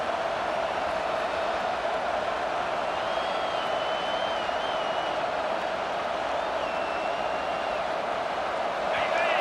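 A packed stadium crowd at an LSU college football game roars continuously in a dense, loud wall of noise, with whistles and shouts rising through it under commentary.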